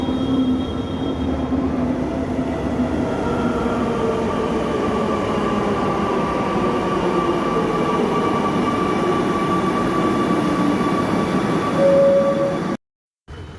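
A Kochi Metro train travelling from Ernakulam South station toward Cochin University gives a continuous loud rumble with rising wheel and motor whine, steady throughout and briefly cut off near the end.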